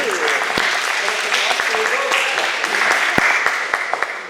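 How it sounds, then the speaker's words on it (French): Applause for a federal MP at a Saint-Adolphe-d'Howard town council meeting: a steady, fairly loud wash of clapping hands that carries on throughout, with a voice talking over it. "On a pas mal d'applaudissements pour notre député."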